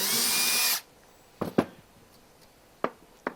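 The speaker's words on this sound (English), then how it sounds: "we'll take a small drill bit and run a hole in here" Small drill bit running a hole into a workpiece, a loud steady high whine that stops abruptly under a second in, followed by a few quiet clicks and knocks of handling.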